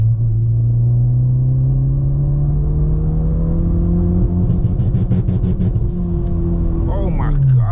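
A 500 hp Honda Civic Si with a stage 5 clutch revs in second gear during a roller anti-lag run. The engine gives a loud, rising drone that turns choppy and popping toward the end, close up.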